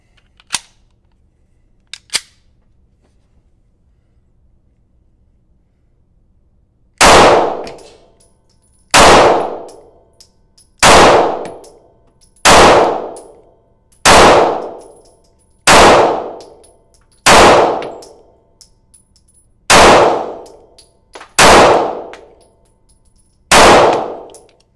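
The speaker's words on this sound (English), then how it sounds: "First rounds through the Taurus G3C" Ten sharp metallic clangs of pistol rounds from a Taurus G3C striking steel targets at a range, evenly spaced about two seconds apart after a few faint ticks, loud and ringing with no talk.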